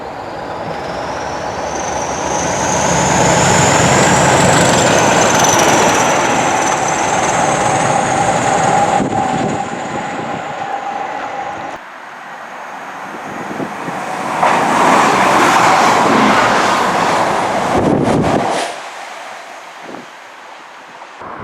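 A convoy of diesel locomotives rolls through a Greater Manchester station: a loud, close, sustained rumble with a high whine and wind buffeting the microphone, easing and swelling again before dropping away near the end.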